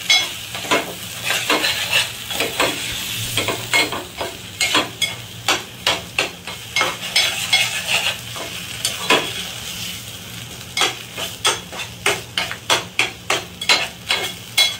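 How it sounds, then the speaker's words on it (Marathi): Mackerel being sautéed in a pan with red chutney and wet coconut masala, giving steady sizzling under repeated sharp scraping stirs that tap out a fairly even rhythm, close and fairly loud, with no talking. "चटणीला लावून हे करून घेतो, परतून घेतो त्याच्यात चटणीमध्ये."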